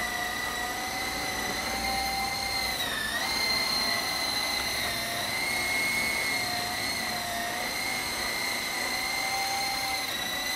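A small E-Sky Lama V4 remote-control helicopter flies outdoors, its motor and rotors making a steady high-pitched whine that dips briefly and then holds constant, close and loud throughout, with no speech.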